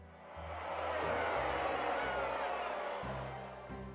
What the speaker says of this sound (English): Commotion and murmurs spread over the crowd, and some of the future nobles refuse to follow the Archduke's orders. There are shouts heard here and there.